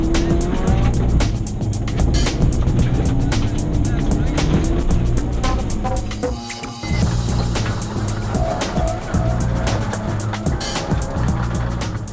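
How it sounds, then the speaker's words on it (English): Group N Subaru Impreza rally car on a special stage at the Fujairah Rally, engine roaring loudly and continuously with gear changes and tyre noise, a commentator talking over it. "Second to start the special stages, Michel Sala and co-driver Wissam Badawi in a Group N Subaru Impreza"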